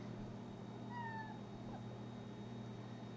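A cat gives a single short, faint meow with a slight rising inflection against a low background hum indoors, heard alone without talk.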